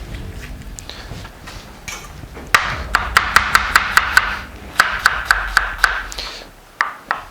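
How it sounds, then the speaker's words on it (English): A knife dices vegetables on a chopping board in quick bursts of sharp, close taps, with some irregular knocks at first followed by two rapid runs of evenly spaced chops. "Nicely diced like that."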